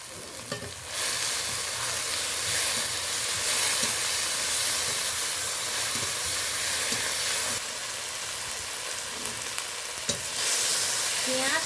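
Onion, green chilli, tomato, ginger and garlic frying in a pan, a loud steady sizzle and hiss with stirring scrapes throughout, close up and without speech.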